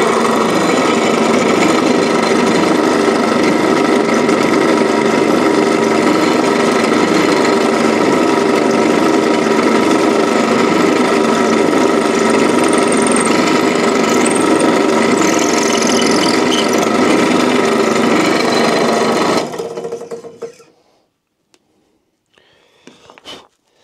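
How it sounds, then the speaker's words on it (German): A drill press boring a hole with a 5 mm bit makes a steady, loud motor drone that runs continuously for about twenty seconds, then winds down and stops, leaving near silence. "dann mache ich mit dem 5 mm Bohrer da ein Loch durch"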